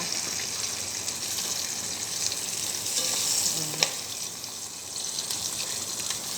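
Salmon fish head frying in hot oil until crispy, a steady loud sizzle throughout with a brief clink of a utensil partway through.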